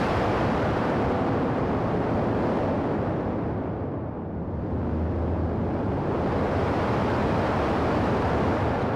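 Synthesized, heavily distorted noise roars continuously like a rocket blast, dipping briefly in the middle before surging back at full strength.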